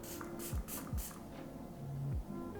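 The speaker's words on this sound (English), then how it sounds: "Okay, let me spray some more" An Anua PDRN hyaluronic acid hydrating capsule facial mist sprays in three short, close bursts of fine hiss at a steady pace, with faint handling noise between them.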